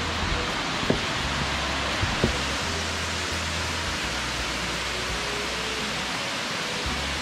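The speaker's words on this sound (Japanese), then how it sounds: "滝の橋から日本大滝を眺めます。" A constant, dense roar of a large waterfall near Mount Mitō in Okutama, Japan, heard from a bridge, loud and unbroken, with a few faint knocks underneath.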